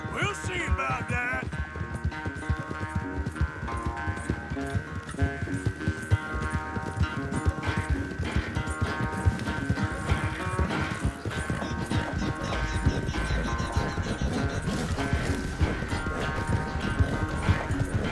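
Galloping horse hooves in the video game Red Dead Redemption 2, a fast, steady clip-clop rhythm running throughout at moderate level beneath a sustained musical score, with occasional snorts.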